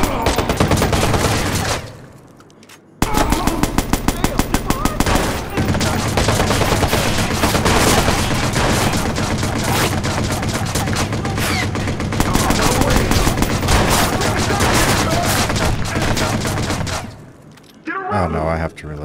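Automatic gunfire in Watch Dogs rattles in loud, dense bursts nearly throughout, with rapid shot trains, a brief silent gap early on, and the firing cuts off near the end.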